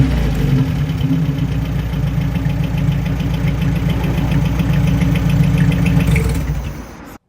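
A 1950s Austin A55 Cambridge MK1 engine idles steadily from outside the car, a loud, continuous mid-range rumble with a knocking pulse that holds for about seven seconds before abruptly stopping.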